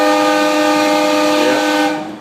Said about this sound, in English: there she goes, honking the horn.